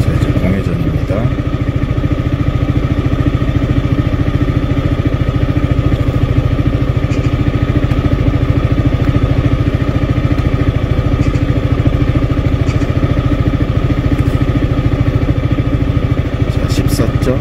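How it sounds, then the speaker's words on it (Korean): A motorcycle engine idles steadily up close, a rapid even low-frequency chug with a light mechanical clatter, running continuously while someone talks over it. "자, 이제 공회전입니다."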